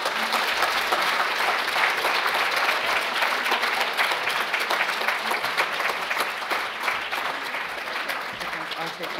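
An audience at an Indigenous Guardians Network gathering claps in a dense, steady burst that holds strong for about nine seconds before easing slightly at the end.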